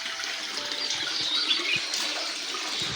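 Hot spring water at Unhavare near Dapoli runs steadily into a stone bathing pool, giving a continuous soft hiss and rush of flowing water with no voices.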